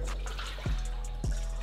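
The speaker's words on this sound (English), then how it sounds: "What a beautiful pour." Liquid pours steadily during a cooking contest, a continuous watery stream with two low glugging surges, no talking over it.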